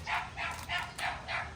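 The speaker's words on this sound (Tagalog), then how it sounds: "Ayan, nagwawala ang mga aso." Dogs barking in rapid succession, five sharp yapping barks in a quick rhythmic burst, fairly close and loud.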